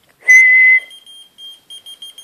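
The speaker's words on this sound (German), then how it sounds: "Okay, ich pfeife jetzt mal kurz." A single sharp, high whistle rings out, followed by a string of short electronic beeps from a whistle-activated key finder responding in an irregular pattern.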